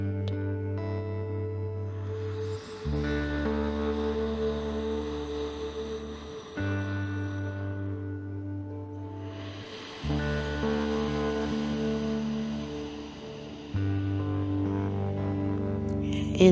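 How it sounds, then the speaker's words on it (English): Slow, soft throat-whispered ocean-breath exhales hiss gently in a yoga practice session, rising and fading over a steady sustained musical drone. "exhale, slow, making that whisper ocean breath sound"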